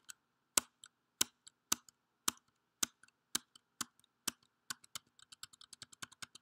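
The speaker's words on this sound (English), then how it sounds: "I'll be pressing the tab key to access the web page" Tab key presses on a computer keyboard while navigating a web page, a series of sharp clicks, evenly spaced at first and then quicker and lighter toward the end, close and isolated in a quiet room.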